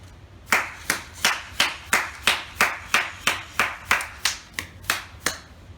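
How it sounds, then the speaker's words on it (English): Hands clap in a steady, evenly spaced rhythm, about a dozen crisp claps close by, meant to prompt a Thames & Kosmos robotic pet to roll; no talking. "you need to keep clapping to encourage him to roll"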